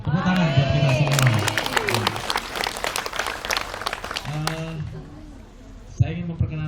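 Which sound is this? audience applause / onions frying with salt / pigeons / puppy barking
audience applause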